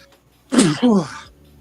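A single sharp sneeze bursts out close by, followed by a short catch of breath, with near silence around it.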